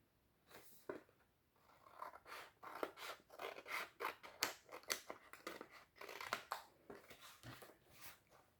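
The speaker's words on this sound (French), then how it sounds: "je coupe mon excédent de papier et je viens couper les angles" Scissors snip the corners of excess paper while covering a notepad holder, a series of quiet, close, crisp cuts in an uneven rhythm, alone without talk.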